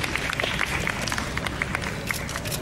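An audience at a Love by Chance fan meeting press event in Bangkok claps steadily for seven actors from the series Love by Share as they come on stage, a dense patter of hands filling the hall at moderate volume.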